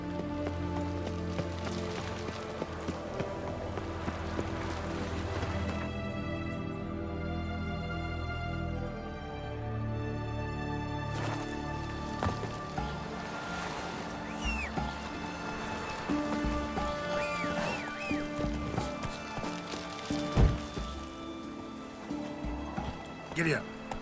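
Hooves of a horse gallop in The Witcher 3: Hearts of Stone in a fast rhythmic clatter, set against game music and ambience, with a person talking over parts of it.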